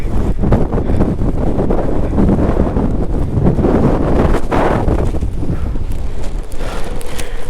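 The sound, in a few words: wind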